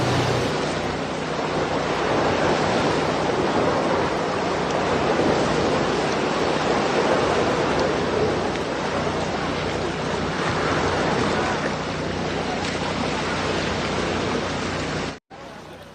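Sea waves wash in continuously in front of a seaside house on Sumilon Island, a broad, loud rushing surf with wind, ending abruptly.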